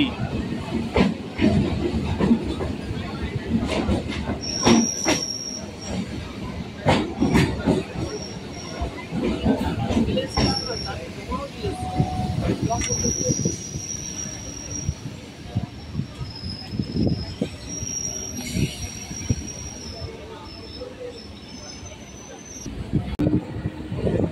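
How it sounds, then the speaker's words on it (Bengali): A local train pulls into Tollygunge station with a rumbling roll, sharp clanks, hissing, and thin wheel squeals that come and go. Voices can be heard faintly in the background. "আমাদের ট্রেন এখন চলে আসলো এই জার্নির পরবর্তী স্টেশন টালিগঞ্জ"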